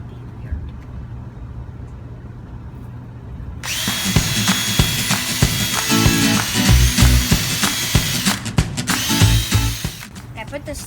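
A power drill whirs loudly for several seconds at close range, with pitch and load shifting as it works on a drawer in an Airstream 30FB travel trailer. A quiet room precedes it.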